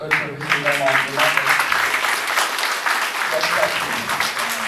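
A hall audience applauds steadily, a broad wash of clapping. A voice talks over the start and again briefly partway through.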